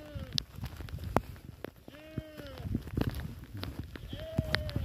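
A flock of sheep, lambs among them, is slowly driven homeward in the early afternoon, bleating repeatedly at varying distances, with scattered hoof clatter and other small knocks.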